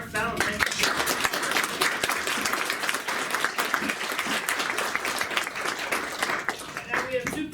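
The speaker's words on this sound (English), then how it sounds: "I want to give a great big round of applause." Applause from an audience after a talk on database security rolls on for over seven seconds, crisp individual claps layered into a steady, moderately loud round, with a voice faintly underneath near the close.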